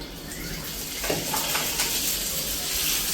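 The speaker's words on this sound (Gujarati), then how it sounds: "આ મારી મમ્મી પાવ શેકે છે" Pav bread buns toasting on a large iron griddle for Bombay-style pav bhaji, a steady close sizzle and hiss with faint scraping, continuous for a few seconds.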